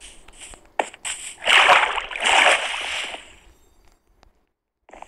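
Water splashes and sloshes loudly in a Minecraft-style block-building game, a burst of broad splashing bursts lasting about two seconds before fading out to near silence, with no voices over it.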